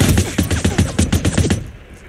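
Rapid gunfire rattles in a video game, around a dozen close, loud shots fired in quick even succession before cutting off to near silence.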